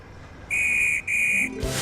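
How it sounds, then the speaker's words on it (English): A guard's whistle blows two shrill, piercing blasts in quick succession, followed by a dull thump. "Before long, the guard's whistle blew, and Rebecca set off with her express."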